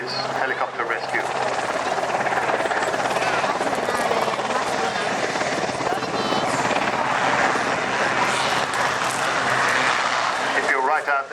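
A helicopter roars loudly and continuously up close at an airshow, its rotor thumping and engine whining steadily throughout, with voices faintly underneath.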